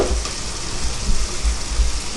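Onions sautéing in a pan for a chicken curry give a loud, steady, close sizzle that holds evenly throughout without any talking.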